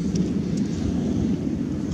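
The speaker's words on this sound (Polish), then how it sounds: "Burza." Low, steady rumble of thunder during a storm in the Bieszczady mountains, continuous and heavy, with faint rain hiss above it.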